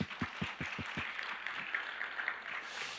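A church congregation gives a round of applause, with a few sharp distinct claps at first that swell into a steady, moderately loud patter of many hands lasting a few seconds.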